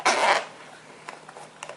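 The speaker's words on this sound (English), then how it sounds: "and it zips up" A semi-waterproof zip on a RAM mount motorbike GPS case is pulled shut in one quick close rasp, followed by faint handling clicks and rustles.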